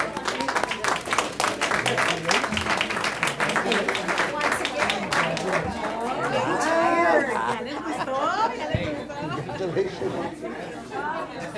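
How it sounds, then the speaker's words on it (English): Applause and cheering at a school district board meeting for a school that earned the highest attendance, starting as crisp clapping and giving way to lively crowd chatter and voices. "let's give them a big round of applause"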